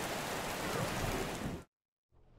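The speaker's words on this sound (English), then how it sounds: "It's raining. We cannot go to school," Steady rain falls in a dense broadband wash for over a second and a half, then cuts abruptly to silence before a fainter noise returns, set in a cursed small town in the 1980s.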